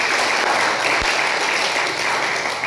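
Church congregation applauding during a sermon, a dense, steady wash of many hands clapping close and loud throughout, with no voices over it.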